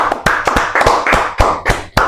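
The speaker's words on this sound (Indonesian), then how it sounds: "Oke, tepuk tangan" A small group claps in short uneven bursts at a gathering in Indonesia, sparse close hand claps rather than a full ovation, with no talking.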